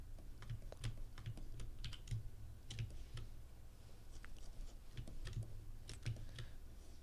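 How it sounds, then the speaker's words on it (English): Keystrokes on a computer keyboard, typed in quick irregular bursts with short pauses, close and fairly soft over a low steady background hum. "I don't know if a louder keyboard is better or this one"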